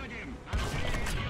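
Gunfire in the video game War Thunder: after a low rumbling background, a sudden volley of sharp shots breaks out and continues in a rattling fusillade, with a voice faintly present.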